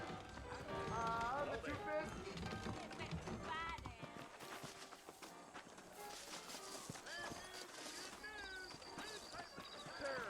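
Horses' hooves clip-clop in the Western game Red Dead Redemption, set in New Austin, with saddled horses setting off out of town, the steady hoofbeats running under music and talk.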